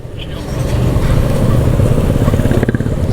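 An FZS V2 motorcycle engine rumbles steadily close by, a low continuous idle with slight revving toward the end.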